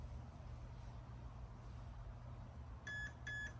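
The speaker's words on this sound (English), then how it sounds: "you're gonna hear a little beep and the light will turn" Two short, high electronic beeps from a Traxxas Bigfoot RC truck's speed controller sound near the end over a steady low motor hum, one right after the other.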